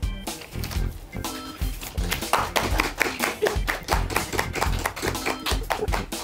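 Several people clapping together at a restaurant table, a quick rhythmic series of sharp close claps running steadily throughout, loud and up front with little talk.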